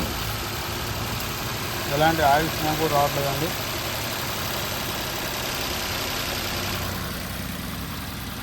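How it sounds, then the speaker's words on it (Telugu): A Nissan Micra engine idles with a steady, even hum throughout, while someone speaks briefly over it near the start. "ఇంజన్ బీటింగ్ చూడండి, చాలా అంటే చాలా సైలెంట్గా ఉంది."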